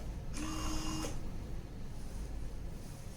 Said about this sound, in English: Click on Open Close Tray to ensure tray is opening fine.